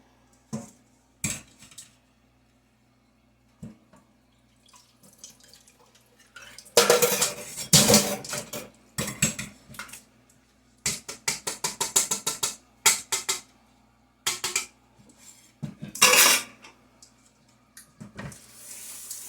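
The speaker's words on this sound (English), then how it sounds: "I always dump mine into the colander." Canned tuna packed in water is dumped into a kitchen colander and rinsed at the sink, giving irregular clattering metal and dish knocks with bursts of running tap water, close and fairly loud, amid a cluttered kitchen.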